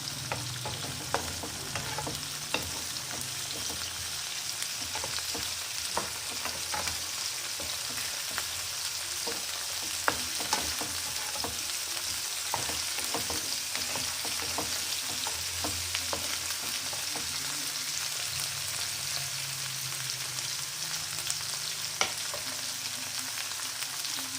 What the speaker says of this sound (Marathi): त्याला छान परतून घ्यायचं आणि टोमॅटो मिरची छान स्मूथ होऊ द्यायची